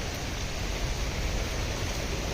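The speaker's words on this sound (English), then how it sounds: "It just started raining" Rain pouring during a thunderstorm in Mérida, Yucatán, a continuous dense hiss of falling water with no breaks, steady and fairly loud, with no thunder or voices.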